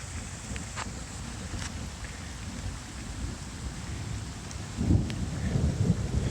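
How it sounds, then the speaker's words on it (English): Steady rain falling, a dense even patter with a low rumble underneath, growing slightly heavier near the end. "Rain coming down."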